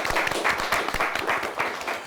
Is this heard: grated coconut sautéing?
no